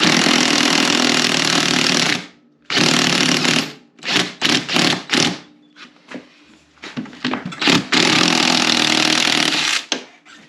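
Impact wrench loosening a skid bolt on a 2023 Gen 5 Ski-Doo snowmobile, firing in loud close bursts: two long rattling runs, then several short stop-start hammering pulses, then another long burst.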